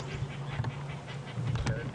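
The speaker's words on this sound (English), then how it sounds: "some very, very angry birds." Harsh, agitated alarm calls from drongos, starlings and rollers on an African safari drive, a dense squawking chorus at moderate distance with a person talking over it.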